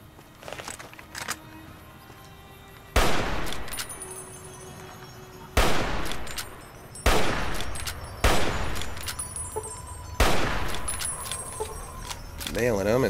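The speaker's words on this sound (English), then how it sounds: "Hopefully I can get some snipe shots off with this rifle" Rifle sniping gunfire in the video game Fallout New Vegas, with about five sharp, loud single shots spaced a couple of seconds apart, each leaving a ringing tail, while someone talks in between.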